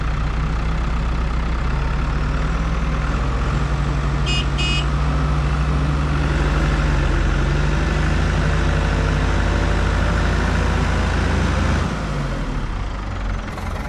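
A John Deere 6080 tractor engine runs steadily as it drives through a waterlogged crop, a loud continuous low rumble with no talk, easing off near the end.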